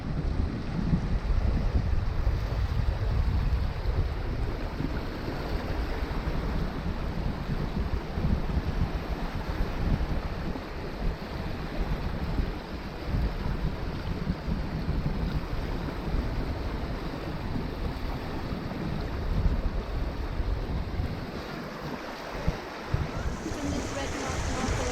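A sailboat beam reaching up a river on a breezy day, with steady wind rush and buffeting against the microphone over a broad wash of water and waves for the whole stretch.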